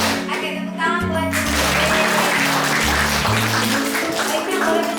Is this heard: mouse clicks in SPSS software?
no